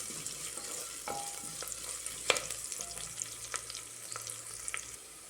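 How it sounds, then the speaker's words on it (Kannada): Onions fry in a pan, a soft steady sizzle punctuated by a few sharp spatula taps and scrapes, fairly quiet and close, stopping abruptly near the end, with no speech. "ಇಲ್ಲಿ ನಮ್ಮ ಈರುಳ್ಳಿ ಫ್ರೈ ಆಗ್ತಾ ಬಂದಿದೆ"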